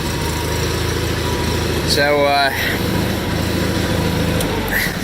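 A 1989 John Deere 318 garden tractor with a 50-inch deck runs smoothly at a steady idle, its low, even engine hum continuing under a brief spoken word.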